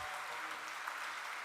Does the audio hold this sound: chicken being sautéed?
no